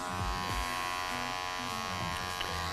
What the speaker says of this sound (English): I'm going to take off my attachment, open my clipper in its open position.